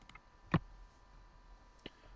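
A single sharp computer mouse click sounds close and quiet against faint room noise, followed by a softer second click.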